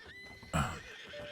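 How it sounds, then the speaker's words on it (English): A horse gives a short, loud whinny close by, followed by a brief snort, with quiet background before and between. "That's your horse?"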